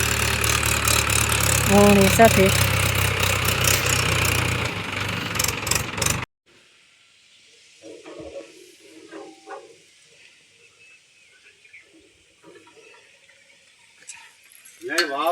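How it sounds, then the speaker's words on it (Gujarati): A tractor idles loudly on a farm before sowing groundnut, a rough steady engine rumble for about six seconds, then an abrupt cut to quieter surroundings with scattered speech. "આપણે ટ્રેક્ટર આવી ગયું છે"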